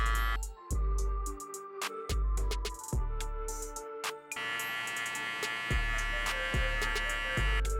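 Hair clippers fitted with a half guard, lever fully open, buzz steadily during a men's fade touch-up, switching on and off in short bursts with brief gaps, close and clear without talk.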